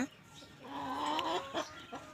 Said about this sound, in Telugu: చూడండి మూడు షార్ట్ నోస్ పెట్టలు మంచి మంచి పెట్టలు